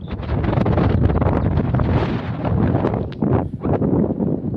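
Strong wind over a peanut field buffets the microphone in loud, roaring gusts, rumbling continuously with brief dips, close and overwhelming, with no voices.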